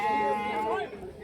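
A goat at a livestock market in Karimangalam, Dharmapuri district, gives a single close, wavering bleat that fades out over about a second.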